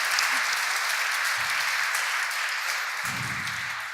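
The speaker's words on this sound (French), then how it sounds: "On peut les applaudir, oui." Brief applause from an audience at a French-language debate on federalism, a steady wash of clapping that holds through the clip and slowly fades near the end.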